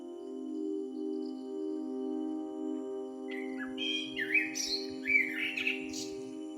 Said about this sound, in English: from the garden fence, the blackbird gives one low, settling note